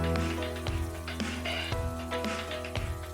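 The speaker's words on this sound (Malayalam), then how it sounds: "ഇനി ഓരോ സൈഡ് നമുക്ക് മറിച്ചിട്ട് ഒന്ന് ഫ്രൈ ചെയ്തെടുക്കാം" Prawns in masala sizzle and fry in a pan as they are flipped side to side, a steady crackling hiss broken by several sharp spits and clatters.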